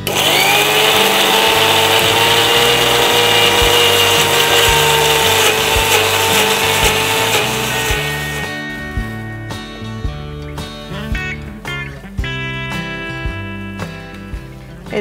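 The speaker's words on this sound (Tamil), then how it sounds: "அதுக்குள்ளே நம்ம இந்த பொடியை அரைச்சி வச்சிடலாம்." An electric mixer grinder whirs loudly while grinding spices into powder for a drumstick leaf stir-fry, a strong steady motor drone that cuts to rattling, uneven pulses partway through.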